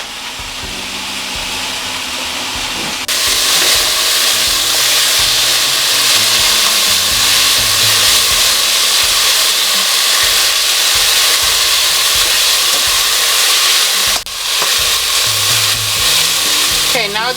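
Minced garlic sizzles and fries steadily in a covered pan after onions, a loud continuous crackle that swells after a few seconds and holds, with a brief dip near the end.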